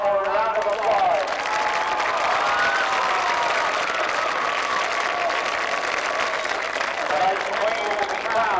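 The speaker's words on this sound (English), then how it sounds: "Let's give all these lovely ladies and their escorts one more round of applause." At a 1992 Oil City versus Titusville high school football homecoming, stadium spectators applaud the homecoming ladies and their escorts with sustained, loud clapping mixed with cheers and crowd voices for over eight seconds.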